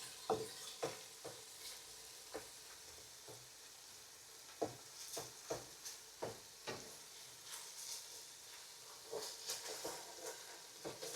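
Bacon frying in a pan over strong heat, a steady sizzle and hiss broken by repeated sharp scraping knocks as it is stirred, close and fairly loud, with no talking.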